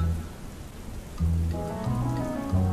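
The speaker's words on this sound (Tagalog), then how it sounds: "Di tulad ngayon, ulan ay bumabati." Steady rain falling, a dense hiss that runs throughout, mixed with soft sustained musical tones that step between notes, moderately loud and without voices.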